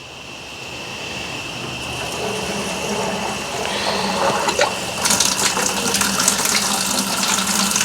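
Water rushes through hoses of a Spike Solo15 home brew system after a valve is opened, a steady close hiss and gush that grows fuller and louder partway through, with light clicks and splashes.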